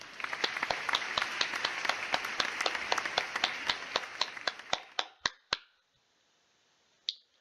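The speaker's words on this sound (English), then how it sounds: "Let's have a round of applause for Sammy Classic Sonic Fan." A small round of clapping from a handful of hands, sharp individual claps in quick succession that thin out and stop, with one last stray clap after a short pause.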